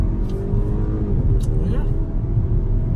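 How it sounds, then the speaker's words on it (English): A 2019 BMW X3 engine accelerating hard from inside the cabin, a steady low drone of road and motor noise building over three seconds, loud and continuous. "I mean, you heard a little bit of grunt from the engine."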